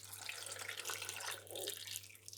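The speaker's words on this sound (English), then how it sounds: "I've got some water that I boiled about 10 minutes ago, so it's hot, but it's not boiling at the moment. I'm going to pour that" Hot, recently boiled water pours from a kettle over potatoes in a pan, a steady close splashing trickle lasting the whole stretch, with a low background hum and no talk.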